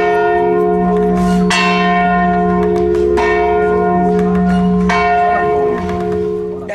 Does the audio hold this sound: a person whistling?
no